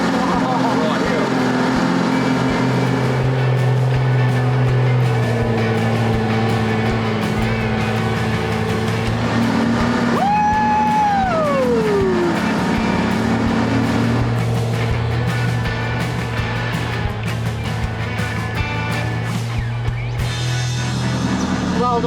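Tank 300 off-road vehicle grinding up steep Calcup Hill, engine droning steadily at close range, with a rising then falling whine midway and constant rumble throughout.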